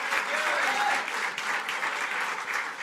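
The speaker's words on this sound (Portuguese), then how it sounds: "Vamos aplaudir esse diácono." A church congregation applauds a deacon with sustained, even clapping that fills the room for a few seconds.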